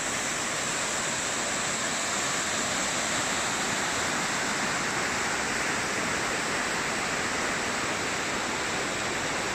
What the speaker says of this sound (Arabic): هذا. شلال مدينة كافاليس